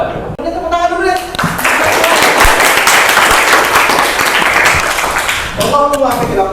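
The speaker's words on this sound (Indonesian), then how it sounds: "Tepuk tangan dulu deh." An audience in an Indonesian classroom or assembly breaks into loud, sustained clapping that swells and holds for several seconds, with brief speech before it starts and again as it fades out.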